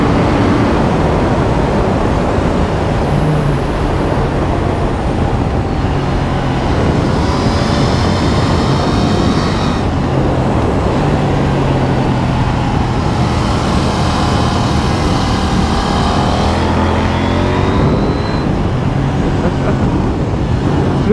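KTM 890 Duke R motorcycle fitted with a new Wings exhaust, heard as a loud continuous engine roar with wind rush throughout and rising and falling revs, no talking.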